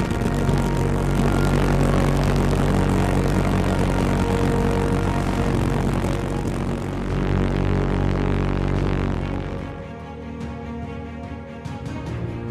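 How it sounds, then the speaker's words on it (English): A V-1 flying bomb's pulse jet launching, a loud, rough engine roar that builds and holds, then cuts down toward the end as the noise drops away, no voices. "As the pulse jet ignited, the steam-powered trolley hurtled up the launch ramp"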